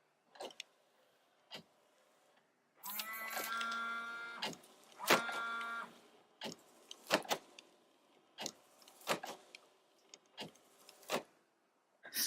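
Intermittent rubbery squeaks and thumps as BINGDLE wiper blades sweep across the windshield, with a longer chattering squeal in the middle, heard close inside the car.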